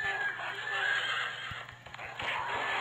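A horse neighs in the zombie video game Extra Lives, a whinny over constant game noise with a few sharp thuds and clip-clop hits scattered underneath.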